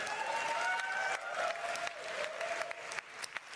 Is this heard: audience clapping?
yes